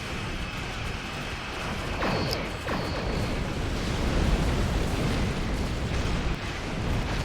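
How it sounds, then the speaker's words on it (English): Torpedo explosions rumble through a Star Trek Online space battle, a loud continuous roar of blasts with a couple of sharp descending streaks near the start, no voices over it. "Somebody was using torpedo sprint right there."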